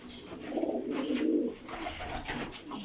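Royal Daddy breed pigeons cooing close by, with several soft throaty coos swelling and fading in a short run, set against light background noise.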